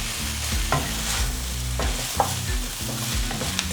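Ginger, mushrooms, onion and bell pepper sautéing in a pan make a continuous sizzle, with repeated stirring scrapes and clatter from a utensil up close.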